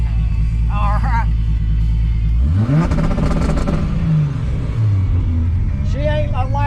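An 860 whp Toyota Supra engine revs up hard with rolling anti-lag, a loud close rising pull rumbling under a steady drone, with brief crackling bursts partway through.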